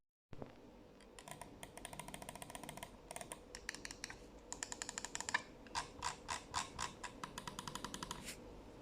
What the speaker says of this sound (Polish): to jest ciągle ten charakterystyczny topowy klik Zoe